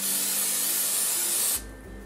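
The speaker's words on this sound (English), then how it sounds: "let's spray the baking pan with cooking spray" One long continuous hiss of aerosol cooking spray onto a toy cookie oven baking pan, lasting about one and a half seconds before stopping abruptly.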